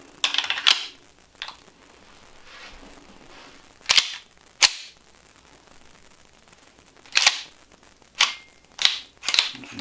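A used pistol is dry fired on 9mm snap caps, giving sharp metallic clicks and slide racks spaced irregularly, close and crisp with quiet handling noise between them.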